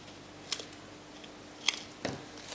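Scissors snipping through material, three sharp, short cuts spaced apart in a quiet room with nothing else going on.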